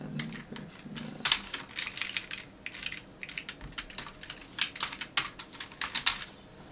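Steady typing on a computer keyboard, with bursts of close, crisp key clicks in an irregular rhythm and short pauses between runs, alone without talk.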